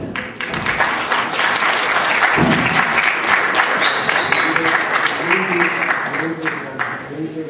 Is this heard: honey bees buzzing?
no